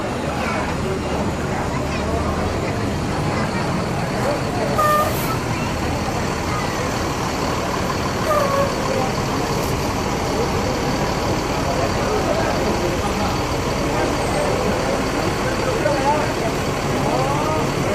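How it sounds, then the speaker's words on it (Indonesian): An ANS intercity bus idles with its engine running as it prepares to leave Jakarta for Padang, a steady low rumble that runs throughout, with faint bustle and a few thin higher tones over it. "Siap berangkat, jangan lupa baca doa biar selamat penumpang bus ANS sampai Kota Padang."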